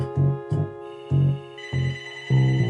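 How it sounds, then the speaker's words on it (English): A telephone rings in five evenly spaced bursts, each a short electronic trill followed by a brief pause, clear and close with no talking. "Sorry about the phone."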